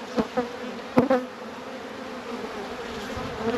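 Honey bees buzz steadily around a hive, a continuous hum with a few louder knocks and bumps nearby early on.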